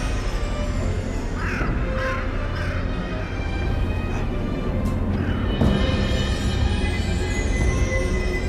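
A bird, likely a crow, gives several short cawing calls over a steady low rumble, as if near a railway or tunnel, with no talk.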